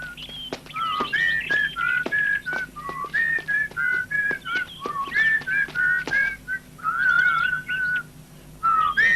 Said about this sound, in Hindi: ये शनी की आवाज लगती है, लेकिन वो इस जंगल में कहा? ये उसी की सीटी है।